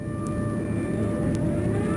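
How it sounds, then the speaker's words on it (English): An air raid siren wails in the Titanic: Adventure Out of Time video game, a steady sustained tone held over a constant low rumble throughout. "I'm hearing like an air raid siren."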